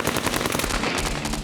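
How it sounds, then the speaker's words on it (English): Dense hail of automatic gunfire during a raid on a compound, rapid close bursts of shots cracking in quick succession with no pause, loud and alone. "they were hit by a hail of bullets"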